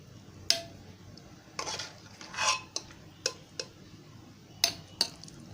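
Cooked dal and mutton scooped into a mixer jar for haleem, heard as scattered sharp clinks and scrapes of a spoon against metal, with a few soft wet plops between them, close and fairly quiet.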